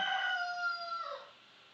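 A rooster at a home flock crows once in a long, drawn-out call with a falling tail, heard clearly in the background.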